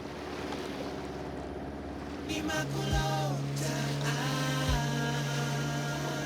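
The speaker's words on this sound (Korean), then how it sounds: "밀려오는 파도를 이용해 겨우 바다로 나가는데 성공." Repaired boat engine running as the boat heads out to sea through incoming waves, a steady droning hum over broad wind and surf noise, with the engine note rising partway through.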